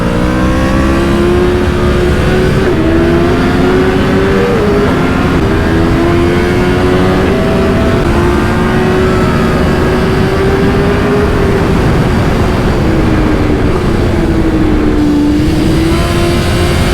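A Yamaha R1 and a BMW S1000RR ride together, their engines droning loudly and continuously with rising and falling revs throughout, close and dominant with no talking.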